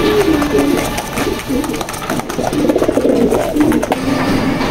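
Domestic pigeons, hens and cocks for sale, coo in a loft in a steady murmur of low, rolling calls that rise and fall over a constant background hum, with no clear talk.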